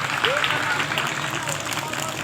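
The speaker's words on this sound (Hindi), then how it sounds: "अगर अच्छा तो जो ताली बजा दीजिए" An audience at a Sarna prayer gathering in Sakarpada claps together in a dense, steady wash of applause, with voices mixed in.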